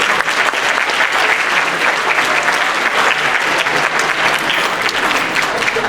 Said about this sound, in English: Again, big round of applause for our 8th graders.